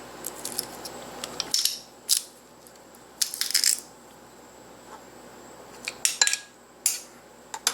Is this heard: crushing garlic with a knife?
yes